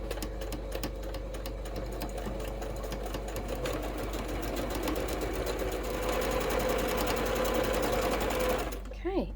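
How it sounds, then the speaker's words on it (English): A sewing machine stitches a King's Crown quilt block in a close, steady mechanical whir with rapid needle ticking that runs almost the whole time and stops near the end, with speech heard alongside. "I want to make sure that I have my needle in the down position, because then that way I know I'm not going to move off where I was sewing."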